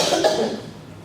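A single sharp cough, close and loud, trailing off into quiet.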